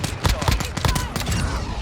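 A P890 pistol fires in Modern Warfare II multiplayer, a rapid string of close, loud shots that crack in quick succession and run together into a dense burst.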